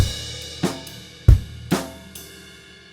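A rock drum kit groove, with bass and snare hits under a steady quarter-note cymbal, played alone at moderate volume with a few sharp accents.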